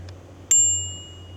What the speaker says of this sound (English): it has a bell. Every girl must have a bell on her bike.